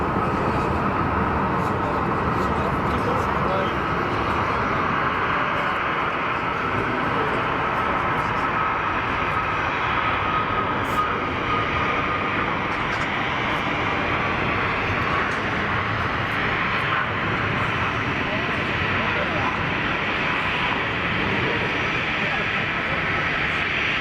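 EgyptAir Boeing 737 MAX jet taking off at Geneva Airport, a powerful continuous engine roar that fills the whole stretch at steady, loud level without letup.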